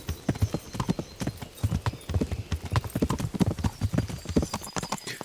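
Horse hooves clip-clop at a steady walking pace on a road in Kingdom Come: Deliverance, a close, even rhythm of hoof strikes continuing throughout without talk.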